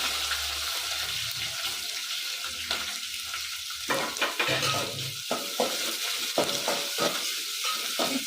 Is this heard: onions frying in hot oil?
yes